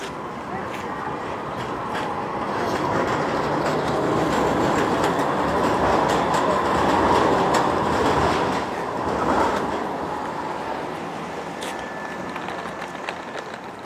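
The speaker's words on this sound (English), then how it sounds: "I like to travel in the tram." A tram rolls past on a street in Istanbul, a steady rumbling clatter of wheels on rail that swells and fades over several seconds, with faint squeals and background city noise.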